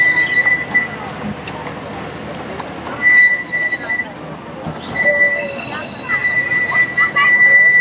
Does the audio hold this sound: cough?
no